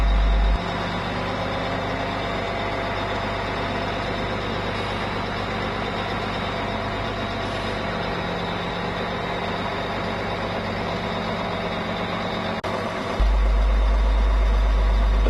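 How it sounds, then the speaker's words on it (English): Heavy diesel engine of a 75 tonne-metre road-rail crane tug, steady low droning as its road wheels and the trailer's rear bogie drive the trailer off the track, loud and continuous with no talk. "The tug road wheels and the trailer rear bogie combine to drive the trailer off the track."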